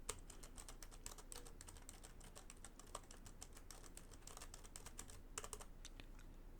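Rapid, steady clicking of computer keys being typed on, quiet and close, with no voices.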